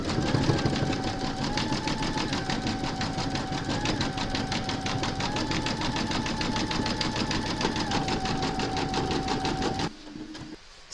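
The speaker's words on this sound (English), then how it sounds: "pop your hoop into your machine and stitch round number 6, and that's going to zigzag all the raw edges" An embroidery sewing machine zigzag-stitches the raw edges of an applique, humming and rattling at a fast, even pace for about ten seconds before stopping abruptly.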